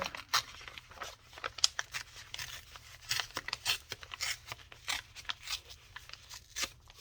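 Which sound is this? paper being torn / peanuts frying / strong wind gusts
paper being torn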